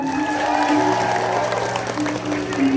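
An audience at a Balinese drama gong stage performance claps steadily, a dense, continuous patter of many hands with sustained musical tones ringing underneath.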